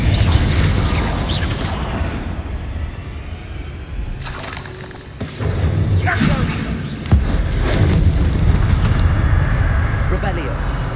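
A Confringo blasting spell explodes in a Harry Potter video game, with a few sharp, loud booming bursts over a busy, continuous game soundscape.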